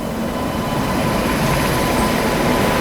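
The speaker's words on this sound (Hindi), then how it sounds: "बिहार संपर्क क्रांति सुपरफास्ट एक्सप्रेस।" Bihar Sampark Kranti superfast express hauled by a WAP-7 electric locomotive from Lallaguda shed, passing close by as a loud, steady roar and rattle of carriages rolling over the rails.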